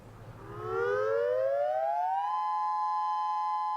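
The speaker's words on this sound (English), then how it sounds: "Everyone knows what to do when the sirens sound." A tsunami warning siren in a Japanese coastal town with tall seawalls rises in a long wail, then holds a steady loud tone, heard alone with no talk.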